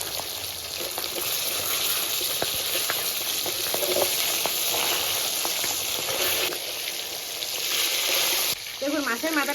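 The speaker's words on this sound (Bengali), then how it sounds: "এই যে দেখুন মাছের মাথাটা ভাজা হয়ে গেছে" A fish head fries in hot oil in a pan with a close, constant crackling sizzle and occasional sharp pops, and a voice starts briefly at the end.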